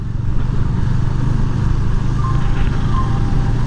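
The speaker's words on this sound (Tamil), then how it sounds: "பைக் எப்படி போகிறது? ஓகே, இதுதான் பைக் போகிறதா?" A loud, steady engine rumble with a low, throbbing pulse, like a motorcycle cruising close by on a road, constant throughout.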